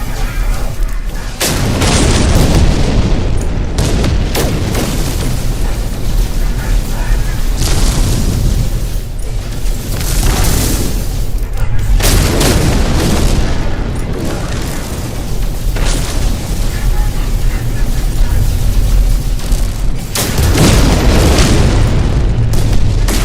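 In No Man's Sky, ship weapons fire at attackers in loud, continuous booming blasts and bursts, with heavy rumbling stretches broken by short pauses.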